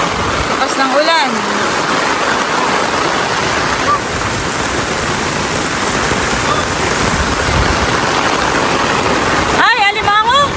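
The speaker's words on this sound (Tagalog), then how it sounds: "Grabe, umulan na ng malakas." Heavy rain pours down in a steady, loud, dense hiss that fills the whole stretch, with brief voices breaking in near the start and end.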